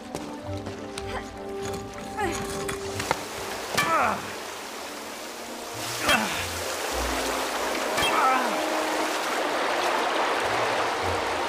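Water gushes and fills a room in an animated Barbie film. The rushing wash builds and grows steadier, with voices and scattered clatters over it.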